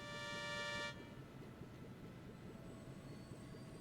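Airship taking off in the game Trails in the Sky, with a loud steady horn-like toot for about a second, then a continuous rumbling engine drone.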